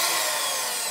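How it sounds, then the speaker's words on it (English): A power drill bores through the metal hood of a 1969 Mustang coupe, a loud, steady, close grinding whine that runs without a break and no voices. "That's a drill."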